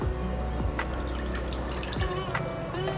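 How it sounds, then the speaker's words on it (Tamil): Dissolved tamarind water is poured through a kitchen strainer while cooking. A steady close-up trickle and splash of liquid runs continuously, with a few louder drips standing out. "கரைச்சி வச்சுட்டு ஒரு வடி எடுத்து வடிச்சிடலாம்."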